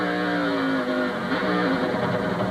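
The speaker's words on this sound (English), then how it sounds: "When he downshifted the car, you hear that bub, bub, bub, bub. That was the rear wheels hopping." A NASCAR race car downshifts into a corner at the 2000 SaveMart/Kragen 350 road race, its loud, close engine howl breaking into a rapid stuttering pulse as the rear wheels hop.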